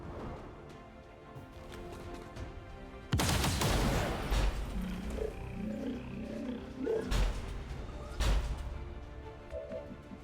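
Heavy gunfire aimed at a sectopod in the XCOM 2 video game bursts in suddenly and loudly, a rapid volley of shots followed by booming impacts and a couple of sharp blasts, standing out against a quieter lead-in.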